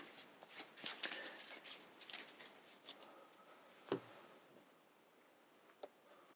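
Board game cards from Mage Knight being shuffled by hand on a tabletop, with a run of soft riffling flicks and taps followed by a few sharper isolated snaps, fairly close and quiet, with no one speaking.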